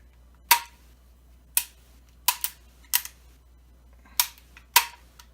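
Sharp metallic clicks from an HK ambi burst pack trigger group being function checked, about eight crisp isolated snaps spaced irregularly, close up against a quiet background.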